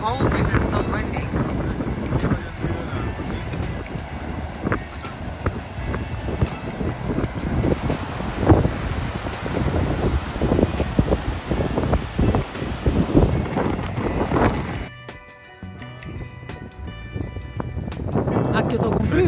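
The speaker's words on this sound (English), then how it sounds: "It's cold because it's so windy." Strong wind gusts buffet the microphone outdoors in Iceland, a loud steady roar with blustery surges that drops briefly near the end, while people talk over it.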